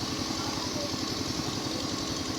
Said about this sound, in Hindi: और इंजन आ रहा गाड़ी का, किसी गाड़ी आ रही इंजन है, पता नहीं क्या आ रहा, ट्रेन ही है